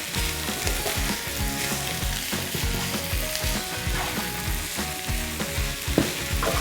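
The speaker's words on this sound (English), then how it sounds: "Just toss it all together, evenly coat everything with the paprika and the chilies, and just cook it for a little bit" Pork nachos filling fries in a pan, tossed with paprika and chilies, giving a dense continuous sizzle with repeated scraping stirs and a sharp clink near the end, no talking.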